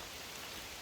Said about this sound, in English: just can't seem to get a break from the rain.